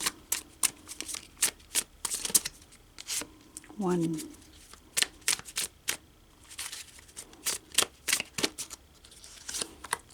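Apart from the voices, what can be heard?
shuffling tarot cards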